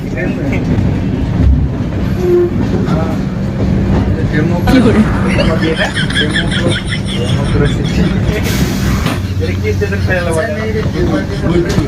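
Loud, continuous rumble of a moving long-distance passenger train heard near the carriage door, with rhythmic wheel clatter and squeals, voices talking over it throughout.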